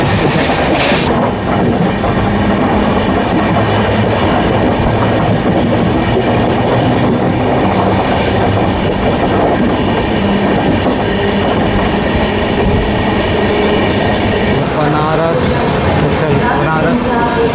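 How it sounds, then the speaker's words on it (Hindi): An Indian passenger train runs at speed while the Banaras–Rajgir Buddha Purnima Express crosses alongside, a loud, dense rumble and rattle of wheels and carriages throughout, with a brief squeal near the end. "बनारस राजगीर बुद्ध पूर्णिमा एक्सप्रेस क्रॉसिंग होती हुई हमारी ट्रेन के साथ"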